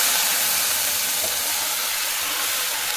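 Moong dal, fried and then boiled, going into a hot pan, giving a steady, dense sizzling hiss that holds evenly from start to finish with no voices.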